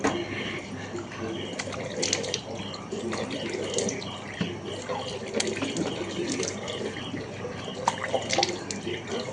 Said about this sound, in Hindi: पहले फेस वॉश करते हैं।